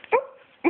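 A puppy gives two short, high yips close by, separated by a brief pause, with no other sound between them.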